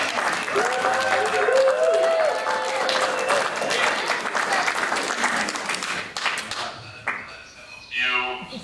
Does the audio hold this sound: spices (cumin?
no